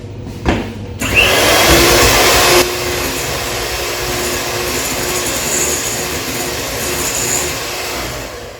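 Banana cake batter being beaten in a bowl with an electric mixer, a loud steady motor whir that starts after a brief clatter and runs continuously, easing slightly after the first few seconds.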